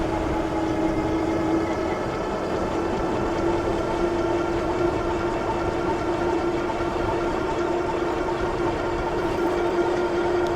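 Hovsco HovGTRS e-bike hub motor whining steadily under throttle while riding, a thin sustained tone holding over a continuous bed of wind and road rush, no talk.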